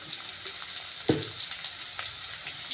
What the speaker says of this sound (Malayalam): അതൊന്ന് പച്ചമണം മാറുന്നവരേക്ക് ഒന്ന് ഇളക്കി കൊടുക്കണം